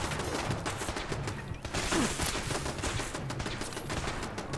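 Gunfire from enemies shooting at the player in the Fallout 4 VR video game: dense, continuous bursts of rapid shots with a steady loud rattle and no let-up.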